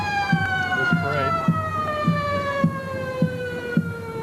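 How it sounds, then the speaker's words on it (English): Wailing siren from an antique fire truck in a small-town Santa Claus parade, a steady falling tone held throughout with rhythmic thumps beneath and crowd noise around it. "Another siren coming up, Doug."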